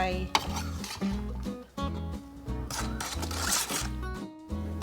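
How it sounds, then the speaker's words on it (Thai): Sugar being stirred in a pot to dissolve it, with repeated metal scraping and clinking of utensil against pan in a steady back-and-forth rhythm, close and fairly loud, no talking. "คนน้ำตาลให้ละลายนะคะ"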